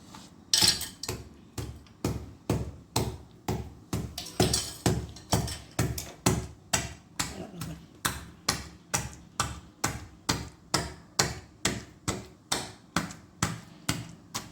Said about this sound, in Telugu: చిన్న చిన్నగా మీద అంటే కళ్ళ మీద పడకుండా జాగ్రత్తగా దంచుకోవాలండి